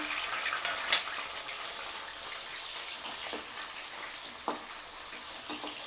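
Onion and tomato pieces fry lightly in oil with a soft, steady hiss, marked by a few sharp clicks from a spoon against the pan.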